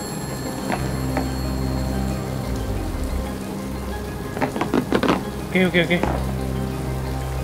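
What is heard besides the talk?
rain in the video game I Am Fish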